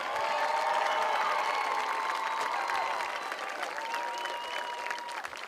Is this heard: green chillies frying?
no